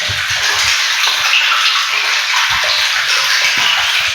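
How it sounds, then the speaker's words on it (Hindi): A motor pump fills a water tank during installation and leak testing, a loud steady hiss and rush of water running throughout. "बोर के बगैर ही हम टैंकियों को फिल करके, यानी कि दूसरी मोटर के ज़रिए से"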